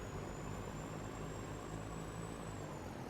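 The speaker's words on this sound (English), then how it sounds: "this truck is a way better model. It looks nicer, sounds nicer, is nicer." A truck idling in the video game Farming Simulator 19, a steady low engine rumble with a faint high whine running over it, constant and close without any talk.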